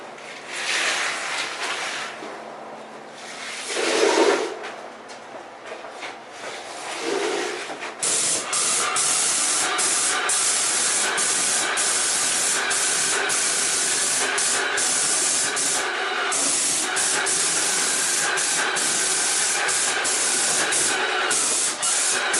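A paint sprayer hisses loudly and steadily for most of the stretch, after a rougher, uneven sputtering spray at the start, with no talk over it.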